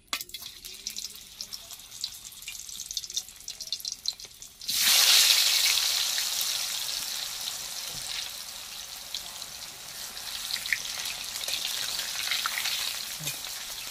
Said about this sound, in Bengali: তেল গরম হয়ে গেছে, এবার আলুগুলো দিয়ে দেব।